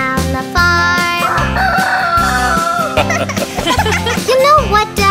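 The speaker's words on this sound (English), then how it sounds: "The chickens all go cluck, cluck, cluck." Cartoon chickens cluck and crow in a children's nursery rhyme about farm animals, the bird calls riding over a bouncy, steady musical backing.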